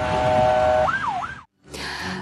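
An ambulance siren wails on an Istanbul highway, loud and close, a steady tone sliding into a rising-falling sweep before cutting off abruptly, then returning amid traffic roar.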